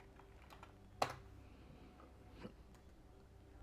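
A computer keyboard tapped a couple of times, one sharp distinct click followed by a softer one, isolated against a faint low hum.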